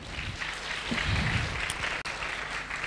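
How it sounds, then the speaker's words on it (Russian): An audience at a PechaKucha Moscow event gives a short burst of applause, a dense, steady wash of clapping that holds at an even level for a few seconds. "Еще раз аплодисменты"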